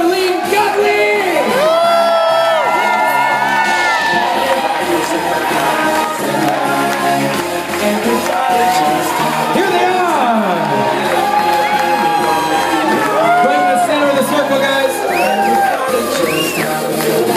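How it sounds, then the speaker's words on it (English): A wedding reception crowd cheers, whoops and screams for the newlyweds in loud, sustained waves, with shrill individual shouts rising above the din and an announcer's voice cutting in. "Right over here, scream for Joshua and Carleen!"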